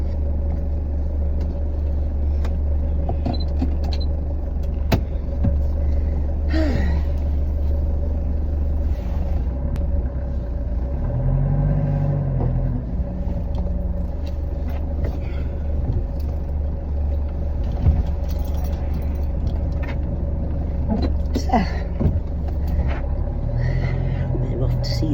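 A car drives along a road on the way to a hospital, its low engine rumble and tyre noise steady and close inside the cabin, with occasional chat over it.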